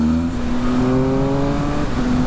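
A Triumph Speed Triple RS 2020 motorcycle engine runs loud and close, its throaty drone rising and settling in a short, steady rev.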